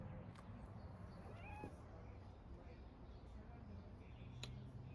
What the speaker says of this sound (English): My guard kitty. She's guarding the garden right now.